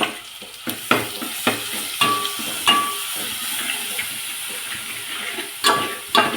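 Cumin seeds and curry leaves sizzling in very hot oil, bursts of sharp crackling and spattering pops over a steady hiss, close up with a few louder flare-ups and no speech.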